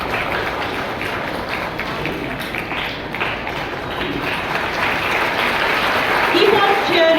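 Students at an Independence Day school celebration applaud and cheer, a moderate crowd of clapping that swells toward the end, with an announcer's voice talking over it.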